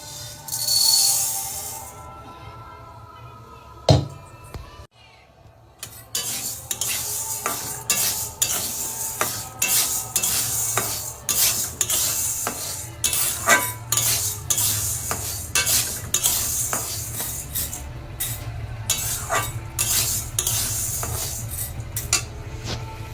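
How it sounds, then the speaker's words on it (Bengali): Kalai lentils fry in a pan while a utensil stirs them, giving a long run of rhythmic, close scraping clinks of metal on the pan over a soft continuous sizzle, after a short quieter start. "আমি এখন কলাই ভাজছি আর কি।"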